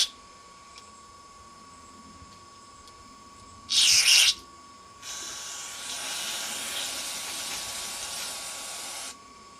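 Compressed air blasted through a small engine carburetor hole: a short, loud hissing burst followed by a longer steady jet of air, close up over faint background hum.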